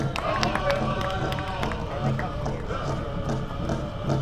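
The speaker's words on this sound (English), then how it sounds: "How about a round of applause for our 5th place winner?" A powwow crowd claps and cheers for the fifth place winner of a dance contest, a steady wash of applause throughout with some background voices mixed in.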